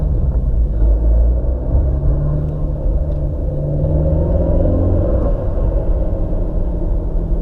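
A VW Golf R Mk7 with a Southbend Stage 3 clutch pulls away gently at low RPM, giving a deep, steady engine rumble, close and continuous, without revving and with no talking.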